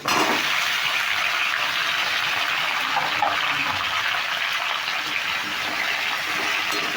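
Washed, chopped ridge gourd pieces go into a hot pan with fried tomato, setting off a loud, unbroken hissing sizzle that stays close and steady throughout, with no talk.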